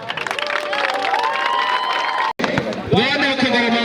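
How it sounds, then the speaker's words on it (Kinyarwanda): A crowd claps and cheers at an awards ceremony for under-13 youth football teams in Gasabo district, a loud, busy wash of applause and shouting mixed with voices talking over the noise. "Amashyi menshi"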